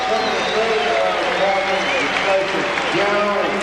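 A basketball arena crowd at a Philadelphia 76ers versus Portland Trail Blazers game applauds in a sustained, even wash of clapping and cheering, heard somewhat distant beneath a broadcaster talking over it.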